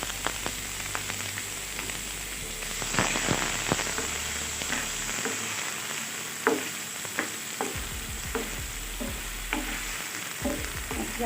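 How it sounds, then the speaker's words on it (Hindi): Chopped large onion frying in hot oil in a pan, with a continuous close sizzle broken by repeated scrapes and clacks as the onion is stirred. "प्याज को गोल्डन करते हैं।"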